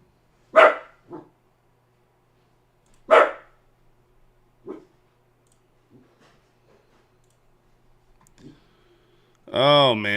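Maxie the dog gives a few sharp barks spaced across several seconds, loud and close at first, then fainter single yaps, with a burst of other noise at the end.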